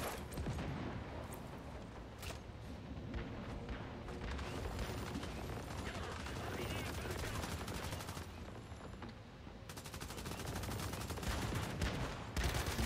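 Rapid gunfire bursts and automatic weapon fire in the video game Once Human, a dense, continuous barrage of shots at a steady loud level with little pause.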